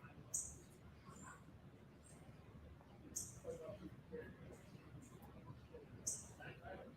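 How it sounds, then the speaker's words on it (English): A northern cardinal chirps outdoors, giving short, sharp high calls at roughly three-second intervals, fairly faint and distant over a soft, steady background hiss. "I hear a cardinal chirping"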